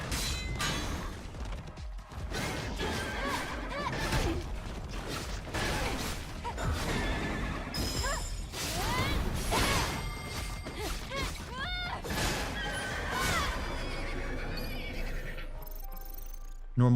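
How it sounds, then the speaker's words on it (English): A horse whinny used as a sound effect in the video game Stellar Blade, heard amid dense, busy game audio with clanks, crashes and mechanical noise running steadily throughout. "The fact that they actually use a horse whinny for it is kind of funny."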